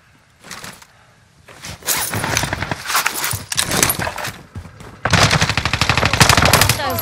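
Rapid automatic gunfire from Call of Duty: Modern Warfare, loud, dense bursts that build through the clip, with an especially heavy sustained volley in the last two seconds.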